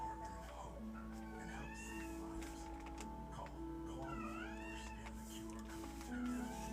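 A cat meows repeatedly in rising and falling cries, close and fairly loud, over a steady background hum with people talking at times.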